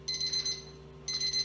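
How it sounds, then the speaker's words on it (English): A kitchen oven timer beeps in two bursts of bright, rapid electronic tones, separated by a short quiet gap, over a low steady hum. "the timer is going off"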